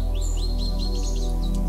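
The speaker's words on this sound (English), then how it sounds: "Birds chirping" Thin, high bird chirps and tweets come through in quick successive calls over a loud, steady droning music bed, without any voices.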